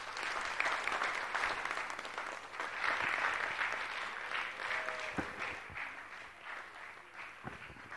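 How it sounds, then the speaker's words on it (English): An audience at an agro-industry strategy launch event claps steadily after a poetry performance, strongest early and slowly thinning out, with a few sharp knocks and a brief tonal sound under the applause. "Another round of applause for her."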